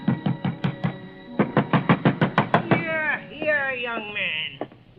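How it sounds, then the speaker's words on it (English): Someone pounds on an apartment door, a series of loud, evenly spaced knocks in two bursts, close by, then a voice speaks over a faint background. "ringing his bell and pounding on his door got me nothing"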